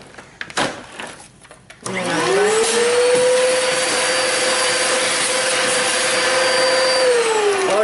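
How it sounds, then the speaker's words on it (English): A vacuum cleaner used in a bathroom switches on after about two seconds of quieter rustling and scraping, then holds a loud, steady whining drone close to the microphone for the rest of the clip. "the other option is you vacuum the whole bathroom"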